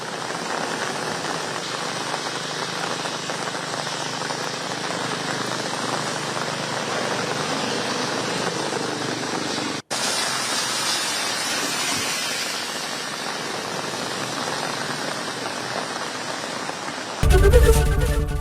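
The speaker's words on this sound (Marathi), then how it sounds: "मरीन ड्राईव्ह परिसरातही जोरदार मुसळधार पाऊस बरसतोय" Heavy monsoon rain pours down at Marine Drive in Mumbai as a dense, loud, unbroken roar. It drops out for an instant midway and ends with a sudden louder burst.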